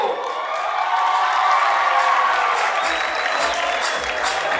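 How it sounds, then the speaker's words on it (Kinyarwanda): An audience at a Rwandan film award show welcomes comedian Nyaxo with sustained applause and scattered cheering, a dense, steady wash of clapping throughout. "Amashyi menshi cyane twakire Nyaxo."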